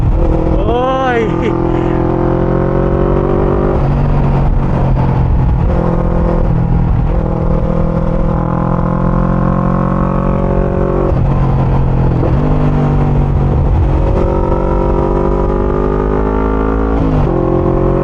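A Voge 500 DS motorcycle on the move, giving a steady, loud engine drone with shifting tones as the revs rise and fall, wrapped in continuous wind rush.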